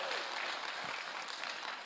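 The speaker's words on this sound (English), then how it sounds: "Let's clap for our veterans." An audience claps in honour of military veterans, a dense, even round of applause at moderate distance that fills the whole brief moment without letting up.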